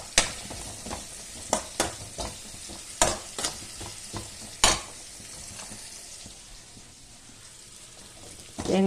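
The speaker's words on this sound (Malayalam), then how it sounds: "കരിയാതെ നന്നായി വറുക്കുക." Grated coconut dry-roasting in a pan for onion theeyal, with a steady soft sizzle broken by sharp scraping stir strokes, loud and close; the sizzle thins out near the end and rises again at the very end.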